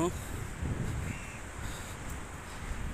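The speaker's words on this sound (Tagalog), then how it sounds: "Ang dami talagang uwak dito guys, sa totoo lang." Several crows caw repeatedly in an open outdoor setting in Saudi Arabia, fairly close, with wind noise and a voice talking alongside the calls.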